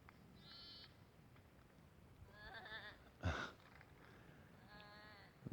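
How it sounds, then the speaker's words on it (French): Ewes on a mountainside in the Pyrenees, bleating in a few short wavering calls, fairly distant and faint over a low outdoor background, with a brief louder rustle or bump partway through. "il y a des petites taches blanches, c'est des brebis"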